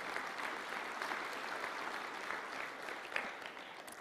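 A church congregation applauds during a Sunday service, steady sustained clapping from many hands filling the room at an even level throughout, with no talking over it.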